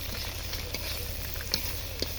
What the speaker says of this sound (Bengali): প্রথমে ডিম দিয়ে ডিমগুলো ভেজে নিব